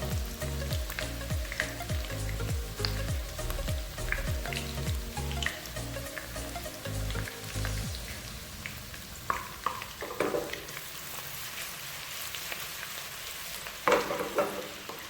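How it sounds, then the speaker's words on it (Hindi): Ginger and garlic sizzle and crackle in hot oil, with stirring scrapes in a steady rhythm, close and moderately quiet. "सिर्फ अदरक और लहसुन का तड़का लगाएंगे"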